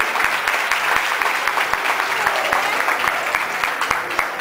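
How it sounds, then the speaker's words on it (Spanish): Loud, sustained applause from a crowd at a political gathering in Añasco, a dense wash of clapping with some sharp individual claps standing out, continuing steadily throughout with no voices over it. "Yo le pido un fuerte aplauso."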